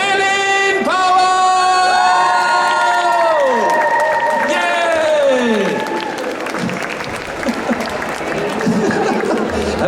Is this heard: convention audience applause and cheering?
yes